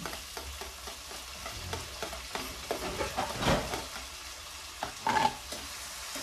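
Tomato is stirred into a hot frying pan, sizzling softly with repeated scraping stirs and one louder clatter near the end, no voices.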